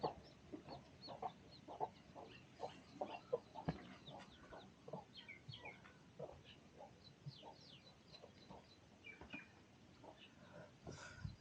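Chickens and chicks kept under an overturned basket on a village farm cluck and peep almost without pause, with soft scratching and shuffling, all fairly faint and close.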